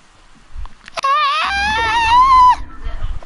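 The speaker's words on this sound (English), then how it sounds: "I'm so sorry that you'll have to hear my sister screaming." A girl screams in the background during a Fortnite stream, one loud sustained wavering shriek of about a second and a half, with low murmuring before and after.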